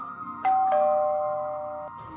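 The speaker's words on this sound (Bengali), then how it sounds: "দরজার সামনে গিয়ে কলিং বেল বাজালাম।" A doorbell gives a two-tone ding-dong chime, loud and clear, then sustains and fades slowly against a quiet indoor background.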